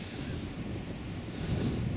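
Strong breeze buffets the microphone beside a Yorkshire Dales river on a December day, a steady low rumbling roar with gusty swells throughout and no voices.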